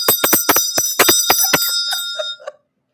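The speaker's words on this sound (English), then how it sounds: "Let me ring this bell." A bicycle-style bell rings rapidly in a quick series of bright dings, then a few slower, fading rings before stopping; close and loud.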